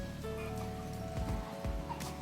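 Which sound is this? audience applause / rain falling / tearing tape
rain falling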